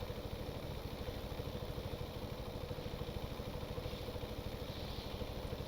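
The Antonov 2 biplane's radial engine runs at full takeoff RPM in Stormworks, a steady, even, clattering drone with a rapid pulsing beat, loud and continuous with no voices.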